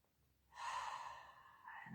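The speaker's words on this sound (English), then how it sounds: "Breathing in." A slow, deep breath drawn in during a guided meditation exercise, a soft steady airy rush that starts suddenly and holds for over a second, close and gentle with no talking over it.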